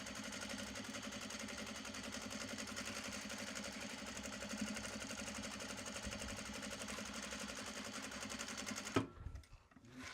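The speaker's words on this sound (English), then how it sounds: "that's a basting stitch to keep all these layers together so that when we're stitching the actual bag, we don't have to worry about quite so much" Sewing machine running a basting stitch through layered fabric for a Japanese fabric bag, a steady rapid mechanical whir for about nine seconds before stopping abruptly.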